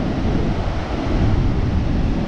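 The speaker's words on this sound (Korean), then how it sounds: "폭포 가까이에서 찍을 때는 좀 물도 조금씩 많이 튀고" Niagara Falls roars up close as a dense, continuous wall of rushing water, loud and unbroken, with wind buffeting the microphone and no voices.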